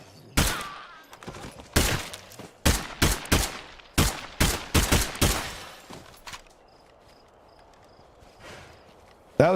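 Gunfire rings out in the zombie survival game State of Decay 2: a string of loud, sharp single shots in an uneven rhythm, followed by a quieter stretch with low ambient noise and one last shot at the end.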